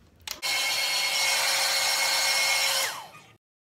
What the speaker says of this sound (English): you flip your head over and then you got the back of your head and you just rough dry it